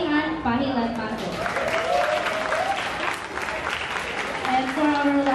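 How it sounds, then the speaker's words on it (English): Audience applause in a school setting, a steady wash of clapping throughout with voices and cheers mixed in. "Let us give a round of applause for Miss Julianne Pahilan Mato."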